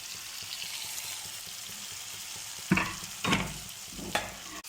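Okra tossed into a pan for a Tamil vendakkai puli kuzhambu, three short loud bursts of stirring and sizzling standing out against a quiet background hiss.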